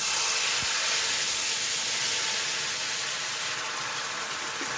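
G Hughes teriyaki marinade poured into a hot pan, a loud, steady sizzling hiss that fills the whole stretch and eases slightly toward the end, with no talking.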